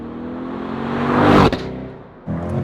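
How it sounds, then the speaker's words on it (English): A 2020 Chevrolet C8 Corvette's engine climbs in pitch as it accelerates on a back road, peaks loudly, then cuts sharply at an upshift before pulling again, close and alone with no talk. "you hear the engine just pop and crackle through each upshift"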